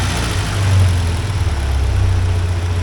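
Engine of a 1979 Porsche 924 running after a fuel tank clean-up, a loud close low rumble with a slight swell in revs before settling into a steady idle, no voices.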